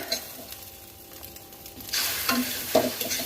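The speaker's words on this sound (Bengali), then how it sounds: "অনিয়ন আর ডিম ভাজা হচ্ছে" Onion and egg sizzle and fry in a pan, the crackle growing louder partway through, with occasional stirring scrapes.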